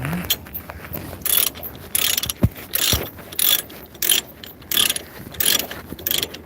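Someone ratchets a tie-down strap tight while securing a mixed load, giving loud bursts of rapid metallic clicking separated by short pauses, with an occasional clunk between strokes.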